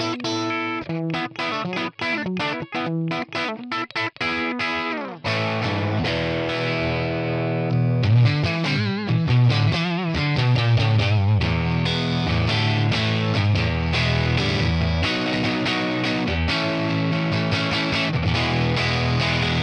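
A Strat electric guitar played through a ToneX ONE crunch amp model with a gritty tweed character, dry with no reverb, strummed chords then a sustained distorted phrase, loud and close, with no talking.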